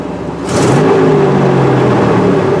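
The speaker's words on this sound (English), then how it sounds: "Motor sounds good." Pickup truck engine with a slight exhaust manifold leak revving up from idle, a loud close rise to a sustained high-revving roar held to the end.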